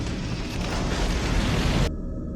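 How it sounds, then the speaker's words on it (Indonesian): A car blowing up after plunging into a ravine, a loud sustained roaring blast with heavy low rumble that holds for nearly two seconds and then cuts off abruptly. "Beruntungnya Nabila sempat keluar dari mobil sebelum mobilnya mulai meledak."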